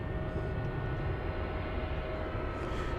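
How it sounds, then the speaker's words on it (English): American Airlines Airbus A319 airliner at Dallas-Fort Worth airport, bound for Calgary, a steady close engine rumble with a faint whine running unbroken through the moment. "That would be American 1973 off to Calgary in Canada,"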